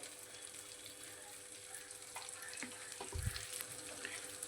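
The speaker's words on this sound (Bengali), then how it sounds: "এবারে মটরশুঁটি বাটাটা তেলের মধ্যে ভালোভাবে মিশিয়ে নেব।" Green pea paste for koraishutir kochuri sizzles gently in oil in a pan while being stirred, a faint steady frying hiss with a soft low thump of the spoon, no voices.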